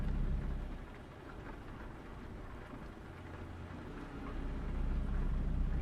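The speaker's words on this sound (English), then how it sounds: "But being it's raining and all of that," Steady rain falls in Euro Truck Simulator 2 as a Volvo truck drives toward sundown, a dense continuous hiss with low rumble that swells slightly at the start and end, alone with no talk.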